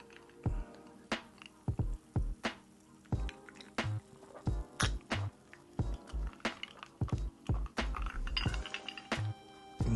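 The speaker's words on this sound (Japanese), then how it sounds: "それでは乾杯させていただきます" Drinking glasses clink together in a toast, a series of sharp, bright clinks and knocks at an uneven pace, close and fairly quiet, with no talking.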